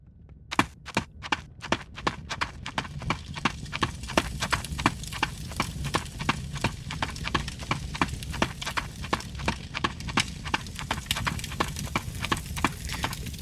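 Running character footsteps fired as Wwise events in a Unity game, a rapid, regular stream of crisp, loud impacts that continues throughout, close and dry, with no talk.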